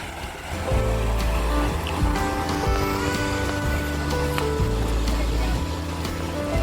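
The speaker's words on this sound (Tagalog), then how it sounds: "So ito yung ilog mismo na yung natural na pinanggagalingan ng tubig galing sa bundok." A mountain river at a natural spring resort flows with a continuous close rush and churn of water and a deep low rumble, steady and loud throughout.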